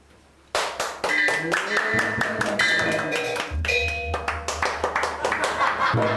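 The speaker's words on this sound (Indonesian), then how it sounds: "Tepuk tangan kenapa coba?" Several people clap hands in a small comedy sketch scene about a village anniversary celebration, sharp irregular claps close by with a low steady hum underneath, and some chuckling mixed in.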